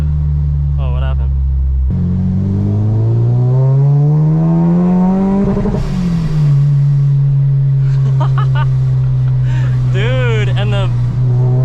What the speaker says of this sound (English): the blow-off valve? It's crazy. I love the blow-off valve.